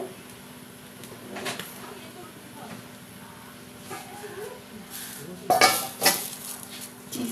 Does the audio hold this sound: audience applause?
no